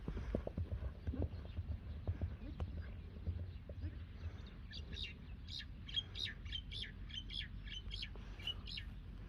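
Horse hooves clip-clopping at a racing event, a steady run of fairly faint hoofbeats in the first few seconds, followed by birds chirping and tweeting over a constant outdoor rumble.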